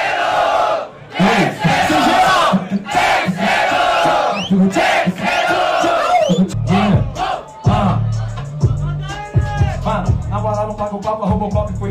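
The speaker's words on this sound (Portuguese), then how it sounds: "Palmas pra batalha, família!" Crowd at a Brazilian street rap battle clapping and shouting over a loud beat, with bursts of cheering and voices, then the music continues with talk over it.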